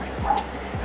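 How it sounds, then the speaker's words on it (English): A dog indoors gives a couple of short yips or barks, brief and fairly close, with a faint whimpering tone in a quiet room. "please excuse the dog if you heard the dog"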